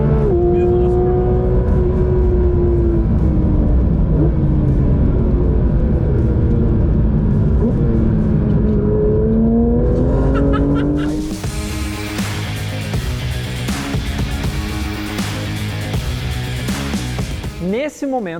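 A Porsche 911 GT3 RS drives fast through corners, its engine note rising and falling as it works through the bends, then swelling into a loud, dense roar near the end, close by and dominant with a voice over it.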